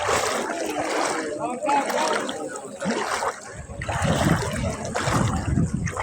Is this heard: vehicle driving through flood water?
yes